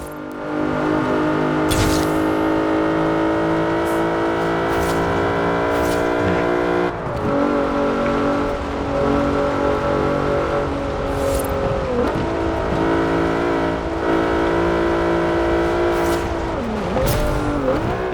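A 2012 Jeep Wrangler Rubicon AWD with a drift tune driven fast in Forza Horizon, its engine droning loud and steady, shifting pitch as it accelerates, with brief tire squeals and skids along the way.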